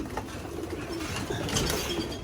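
Pigeons coo softly in a breeding loft in Virginia Beach, low murmuring calls repeating over a steady background hiss, fairly close and alone without talk.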